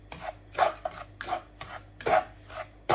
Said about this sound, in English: just make sure that you are constantly stirring this, because it can stick to the bottom of the pan